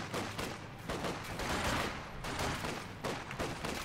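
Rifle and machine-gun fire crackles in a Company of Heroes 2 battle as Volksgrenadier squads and Sturm Pioneers fight Soviet conscripts, dense overlapping bursts and volleys with no break throughout.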